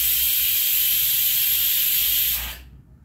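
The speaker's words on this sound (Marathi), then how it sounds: "कुकरच्या शिट्ट्या होत आहेत" A pressure cooker cooking dal with spinach vents a loud, steady rush of hissing steam for over two seconds before it abruptly stops.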